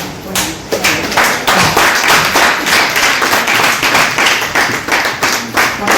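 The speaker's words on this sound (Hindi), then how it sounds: "थोड़ा मुस्कुरा करके ताली बजानी पड़ती है" An audience claps during an honouring ceremony for a guest of honour at a Vision India Foundation event, loud dense applause sustained throughout with a few sharper individual claps standing out close by.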